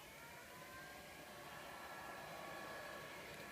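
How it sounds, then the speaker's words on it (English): A heat gun or blow dryer on a low setting, steady airy whirring held evenly throughout, faint and continuous while it warms the edge of a MacBook Pro's front glass. "you just need to get your heat gun or blow dryer, put it on low, and go around the side like this"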